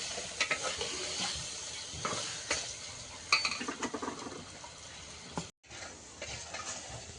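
A spoon stirs and scrapes through a mash of roasted desi eggplant (olo) cooking in a pan, with irregular clinks and scrapes over a soft sizzle, close and without talk, briefly cut off near the end.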